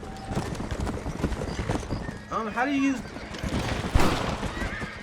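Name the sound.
horse galloping and neighing in video game Red Dead Redemption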